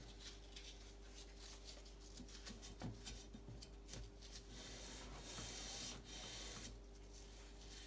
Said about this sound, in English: I'm just going to pass it with the tiniest amount of sandpaper